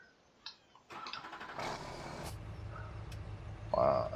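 Tractor engine in the video game Farming Simulator 17 cranks and catches, then settles into a steady low diesel rumble, preceded by a few clicks and ending with a louder burst.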